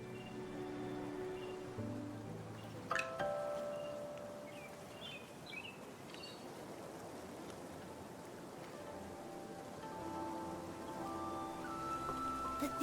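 Strange rain falls in the game Infinity Nikki as a soft, steady hiss of drops, quiet and continuous beneath faint musical tones.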